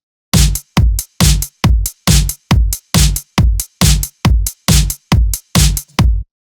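Simple EDM chorus drum pattern: about a dozen loud, punchy kick-and-snare hits in a steady, evenly spaced rhythm, each short and full-range with a bright top end, with no other sound.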